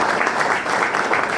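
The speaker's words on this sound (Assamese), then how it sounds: "আজি মোৰ মেণ্টৰ, আজি CTC লিডাৰ ৰুবুল ছাৰ কাৰণে তালি বিচাৰিছোঁ ইয়াৰ পৰা।" Applause for a leader at a closing speech event, steady dense clapping from a crowd filling the space evenly throughout.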